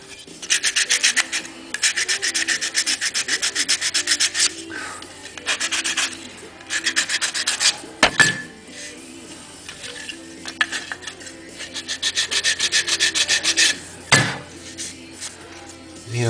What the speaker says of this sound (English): sand it down even to the body with your sanding block